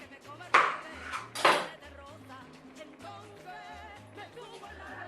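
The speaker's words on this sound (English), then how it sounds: "So I'm gonna cut them in half." A knife slicing pear tomatoes in half on a cutting board, with two sharp, close knocks of the blade hitting the board, heard under a person talking.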